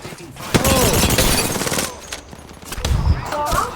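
Rapid bursts of video game gunfire crackle loudly through a tense online match, with excited players talking over the shooting.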